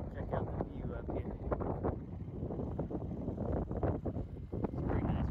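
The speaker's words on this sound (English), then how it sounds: "it is really windy in the dune" Strong wind on a dune buffets the microphone with a continuous rough roar and gusty rumbling, loud and close throughout.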